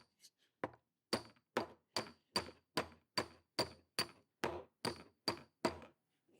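Hammer blows ring against metal on a dolly while fitting a VW running board, in a steady rhythm, about a dozen sharp strikes with a bright high-pitched ting, close and clear.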